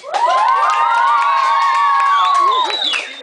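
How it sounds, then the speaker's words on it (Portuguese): Audience at an evangelical church camp (Monte Sião, 2010) cheers and shouts loudly to cast a vote, a dense, sustained wall of crowd noise with whoops and high shrieks lasting about three seconds before tapering off. "Bater palma e dar gritinho, galera."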